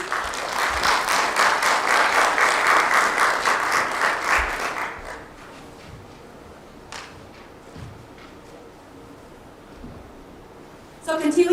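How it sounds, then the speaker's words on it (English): An audience at a domestic violence awareness event applauds the panelists, loud dense clapping for about five seconds that fades into room noise and scattered thumps, with a sudden loud burst at the very end. "Please give them a big welcome and round of applause, please."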